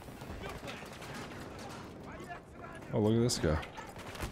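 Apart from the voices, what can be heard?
gunfire in the video game Battlefield 2042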